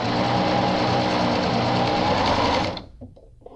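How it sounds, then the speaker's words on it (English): Sewing machine running a short-length straight stitch through gathered fabric layers for ruching, a loud close mechanical whir at fast steady speed that stops abruptly near the end, leaving quiet handling noises. "it's just a plain straight stitch using a shorter stitch length, and I'm going to run it through"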